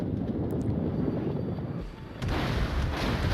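Heavy naval gunfire from the battleship Nelson in World of Warships: dense low-frequency booming and rumble throughout, with a brief dip before another loud salvo, no voices.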